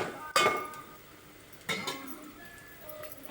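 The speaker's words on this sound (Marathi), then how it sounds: "सगळं मिक्स करून घेऊ." A spoon stirs turmeric and salt into fried onions in a pan for a prawn pulao, with two sharp metallic scrapes and clinks over a quiet background.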